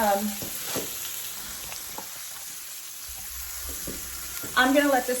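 Chicken breasts fry in an oiled pan with a steady close sizzle, broken by a few stirring clicks and a short voice near the end.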